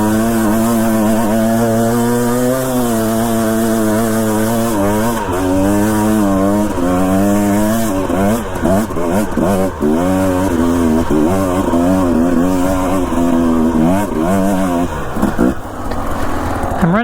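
Dirt bike engine fitted with a new FMF 2.1 exhaust, revving loudly and continuously, its pitch rising and falling through repeated throttle blips, close to the listener.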